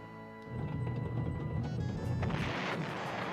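Attack and gunfire in the PlayStation 1 strategy game Panzer General during the Battle of Kiev: a sustained rumbling, grinding blast of artillery-style fire with sharper crashes toward the end.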